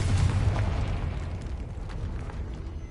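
A deep, rumbling fire-blast explosion from the Confringo spell in Hogwarts Legacy, loud at first and then decaying into a sustained low roar with no voices.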